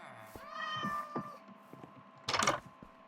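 A cat in the Minecraft video game meows a few times in quick succession, followed by a brief burst of noisier game sound near the end.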